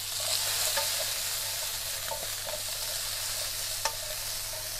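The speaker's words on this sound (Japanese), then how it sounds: "で、次にナスを入れて最後トマトを入れるようにします。" Eggplant frying in oil in a pan, a steady broadband sizzle with faint stirring clicks and one sharper tap near the end, close and continuous with no talking.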